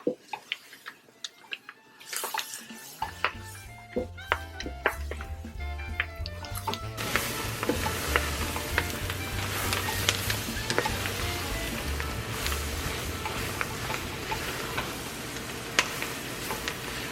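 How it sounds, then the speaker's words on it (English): Vegetables for a chicken and sausage gumbo hit very hot oil in a gumbo pot, breaking into a loud, steady sizzle and fry after a few seconds of scattered clinks and stirring, no voices. "These are almost going to fry in here"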